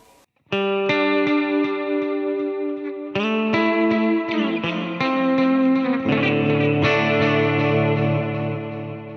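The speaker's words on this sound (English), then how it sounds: "So you should hear that stereo panning effect." Electric guitar played through a Fender Mustang Micro Plus headphone amp on its Swirling Echoes stereo effect: sustained chords and picked notes with lush chorus-like shimmer, repeating echoes and a panning swirl, loud and steady throughout with no talking.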